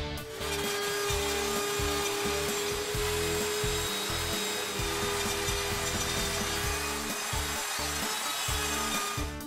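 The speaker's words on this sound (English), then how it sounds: "I have to route a 1/16 inch slot along the side of this" A power router cuts a 1/16 inch slot along the side of a wooden arcade machine cabinet panel, a loud, steady whining grind with a rough, fluttering rumble that holds for about nine seconds.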